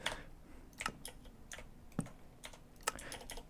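Fingers tap a computer keyboard in short, uneven bursts of crisp clicks, with a few sharper keystrokes standing out against a quiet background.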